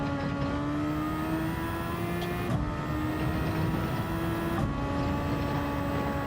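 A GT3 race car laps a circuit in Gran Turismo 7, its engine holding a steady, loud, droning tone that dips briefly at gear changes, with no voices over it.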